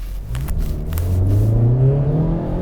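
A new Honda Civic Type R hot hatch accelerates hard, its front-drive engine note climbing in a rising whirring rev, loud and close from inside the cabin, with a brief scuffle of wheelspin early on.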